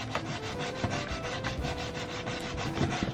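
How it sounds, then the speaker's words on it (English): A Peco track rubber is scrubbed hard back and forth over a short section of model railway track, giving a close, continuous rough rubbing sound with rhythmic strokes. "I'm going to really scrub hard on the little short section"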